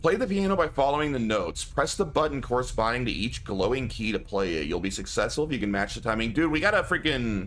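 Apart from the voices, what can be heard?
None of the usual background noises is heard.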